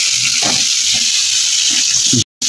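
Garlic frying in a pan hisses with a loud, steady sizzle, dotted with soft bubbling pops and low stirring noises, before cutting out abruptly near the end.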